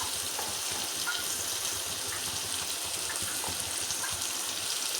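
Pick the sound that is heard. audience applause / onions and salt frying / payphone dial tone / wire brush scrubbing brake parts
onions and salt frying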